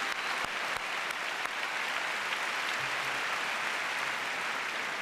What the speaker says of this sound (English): would you guys stand up, please, so we can give you a round of applause?